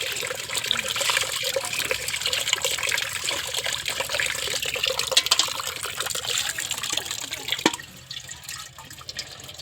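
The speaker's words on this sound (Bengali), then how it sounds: "ওই দেখো ভালোই জোরে জল পড়ছে" Water gushing hard from a tap at a village home, a loud continuous rushing splash that holds steady for about seven seconds and then drops off, with no talking.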